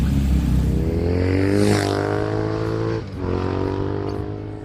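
Moto Guzzi V7 motorcycle being ridden, a steady close engine drone with rising harmonics as it accelerates, briefly easing around a gear change before pulling again, with wind rush over the whole pass.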